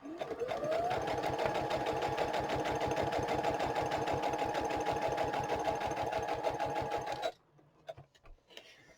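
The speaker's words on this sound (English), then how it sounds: "I'm just going to stitch it on here like this." A sewing machine stitches an extra page into a farmhouse-style junk journal, running in a fast, steady, loud close-up rattle for about seven seconds before stopping abruptly, leaving faint handling sounds.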